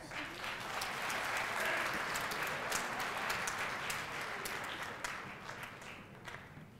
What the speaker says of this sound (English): Salima Alim, nice round of applause.